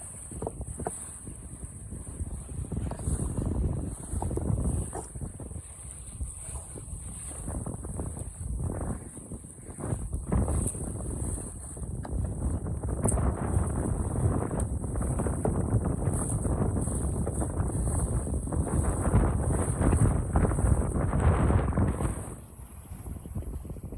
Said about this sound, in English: And plenty of wind.